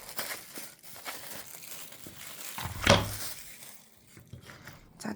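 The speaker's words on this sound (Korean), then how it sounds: "이제 목제품을 개봉해 보도록 하겠습니다" A packaged wooden craft kit for a tile tray is unwrapped, with soft crinkling and rustling of plastic wrapping and one firmer thunk in the middle, all fairly quiet and close.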